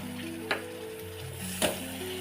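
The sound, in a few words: dried fish being stirred into sizzling curry in pan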